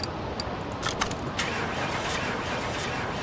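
An engine cranking and failing to catch on a car in Car Mechanic Simulator 2018, its head cover and manifold missing, heard as a steady starter whir with a few brief clicks near the start and no voices.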